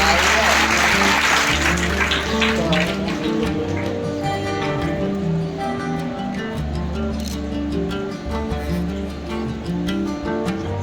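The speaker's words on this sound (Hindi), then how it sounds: "खुद के लिए तालियां बजा दो कम से कम" Audience clapping at a Prajapati community service event for a free computer education academy in Gwalior, a burst of hand claps early on that fades as steady music with a thumping beat carries through.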